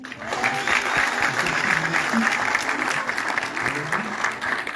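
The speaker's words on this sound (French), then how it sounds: "On peut les applaudir." An audience in a Paris event hall applauds festival partners at an African series night, a dense, steady clapping that carries on for several seconds at moderate loudness.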